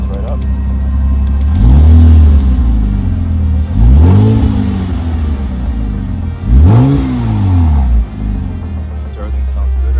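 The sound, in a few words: sports car engine running and revving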